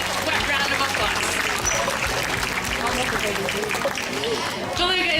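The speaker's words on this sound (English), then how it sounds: "let's also give the belugas a big round of applause" An aquarium audience applauds the belugas with loud, sustained clapping and crowd noise throughout, a presenter's voice mixed in over the applause.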